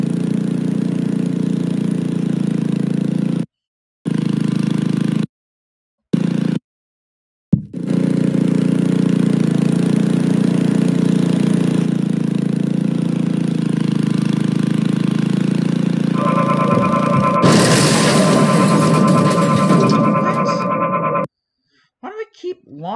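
Steady motorcycle engine drone in Happy Wheels, a continuous mid-pitched hum broken by a few abrupt cutouts, joined late by a brighter whining tone before stopping.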